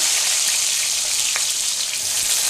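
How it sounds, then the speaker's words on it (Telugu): Onions frying in hot oil give a steady, close sizzle with a fine crackle that runs evenly throughout, with no talking. "ఇప్పుడైతే ఆనియన్ వేసుకుందాం"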